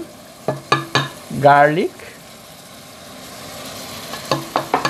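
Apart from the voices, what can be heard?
onion and garlic paste added to frying pan for jackfruit biriyani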